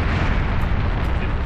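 Cruise missile detonating in the PC strategy game Empire Earth 2 during naval warfare, a sustained loud rumbling blast with dense low-end roar filling the whole moment, no distinct separate hits.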